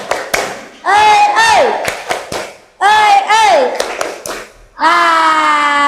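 An Indonesian school class performs the 'tepuk semangat' cheer, sharp rhythmic claps in quick bursts alternating with the group's chanted, sung-out voices, loud and close.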